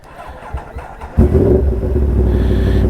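An overheated motorbike, revved hard earlier, is cranked with a few ticking attempts before the engine catches and settles into a loud, steady idle close by.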